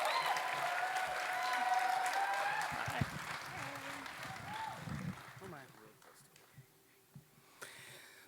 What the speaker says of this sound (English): keep your applause going. Make it big and loud and loving for Kara Foran.